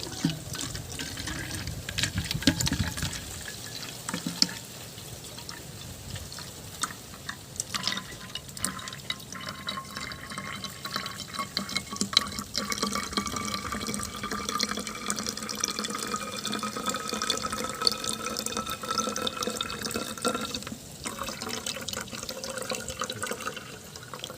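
Hot water, about a litre, being poured for a small home vegetable garden, a steady splashing and trickling stream running continuously throughout at moderate loudness, with no voices.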